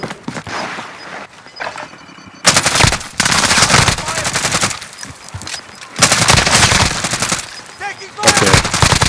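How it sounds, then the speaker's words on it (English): Stoner machine gun fire in Call of Duty Warzone Resurgence: loud, close sustained automatic bursts, several long rattling volleys separated by brief pauses, with some speech mixed in. "the stoner just didn't stop shooting"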